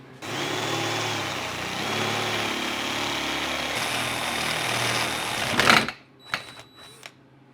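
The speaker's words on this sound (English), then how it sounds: "So let me drill this hole now." A power drill whirs steadily for several seconds, drilling a hole in a 1970 Triumph TR6 transmission, close and loud, then stops, followed by a few short bursts of the motor.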